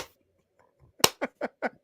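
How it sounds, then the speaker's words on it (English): A single person does a slow clap, four distinct hand claps spaced evenly at a deliberate, unhurried pace, close and crisp, preceded by a moment of near silence. "Slow clap."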